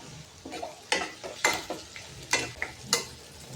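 Turmeric stirred into frying onion and green chilli in a pan, a soft sizzle under several distinct spoon scrapes at an irregular rhythm, close and moderately quiet.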